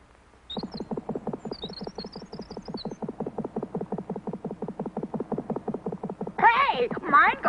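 A bird's heart beating fast, heard as a rapid, steady train of soft rhythmic thumps that runs for several seconds before a voice starts speaking at the end.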